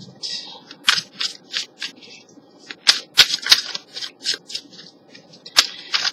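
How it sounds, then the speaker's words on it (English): Tarot cards riffle and snap in quick bursts, a steady series of crisp shuffles close up with brief pauses between them. "So I am shuffling the cards."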